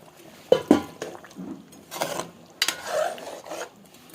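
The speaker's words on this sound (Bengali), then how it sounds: "আর এখানে দিয়ে দিব এখন কাঁকড়া আলুটা দিয়ে দিচ্ছি" Crab pieces and potatoes tipped into a cooking pan, a few loud clattering knocks followed by scraping and stirring rattles against the metal, close and alone without talk.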